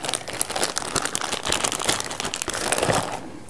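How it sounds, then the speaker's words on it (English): Plastic wrapping around a Fujifilm X-E1 camera crinkles and crackles as it is pulled off, a dense run of close, sharp rustles lasting throughout. "If I can get it out of the plastic."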